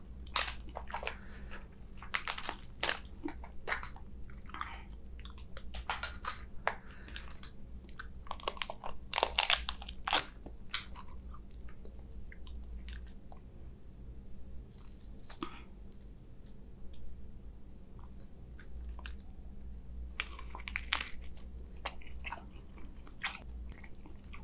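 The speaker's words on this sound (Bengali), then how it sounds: "লবস্টারটা খাই" Someone eats lobster during a seafood boil, with close, loud bursts of biting, cracking shell and wet chewing coming in uneven clusters, busiest in the middle and tapering off, with no talk.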